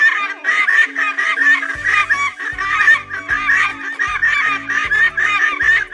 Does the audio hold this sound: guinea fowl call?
yes